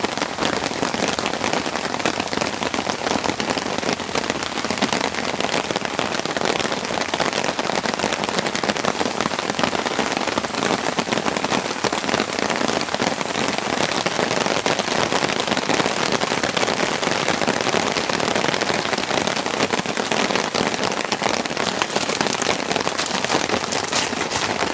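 Heavy rain pouring onto a tent at a campsite during a rainstorm, a dense, loud, unbroken patter of drops that holds steady throughout, with no voices.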